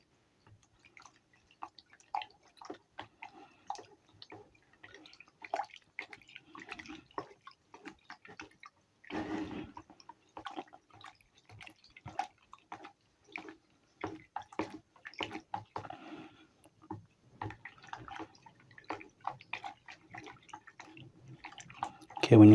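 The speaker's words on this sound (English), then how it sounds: "So this is the water mixed with the SDBS. Okay, now I'm going to give it a stir." Water mixed with SDBS is stirred in a container while making pine gel, giving irregular soft sloshing and tapping clicks that recur throughout, fairly faint and close, with a louder swirl midway.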